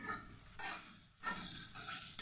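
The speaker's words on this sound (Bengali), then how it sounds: "পাস্তা চাউমিন রান্না করছি আজকে আমি" Pasta chow mein stir-frying in oil, with a steady sizzle and periodic scraping stirs of the pan, close and alone.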